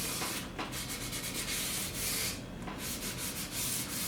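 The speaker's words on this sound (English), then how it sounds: "Sandpaper and cleanup of any dirt or excess of glue should be important to do." Sandpaper rubs back and forth over a wooden cupboard door with inlay under repair, a steady close abrasive rasping in long continuous strokes with brief pauses between passes.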